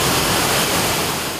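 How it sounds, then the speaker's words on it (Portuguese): Waterfall at Chapada das Mesas in southern Maranhão, a loud, dense and unbroken roar of falling water, heard close and steady for a brief moment with no voices. "Um espetáculo da natureza com mais de 90 cachoeiras já catalogadas."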